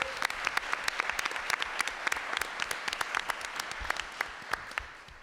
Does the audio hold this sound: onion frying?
no